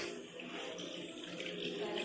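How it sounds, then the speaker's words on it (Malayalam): Water poured into a pot of simple Kerala-style tomato rasam, a soft continuous splashing and trickling stream heard close up and fairly quiet. "നമുക്കിനി അടുത്ത ആവശ്യത്തിന് വെള്ളം ഒഴിച്ചു കൊടുക്കാം."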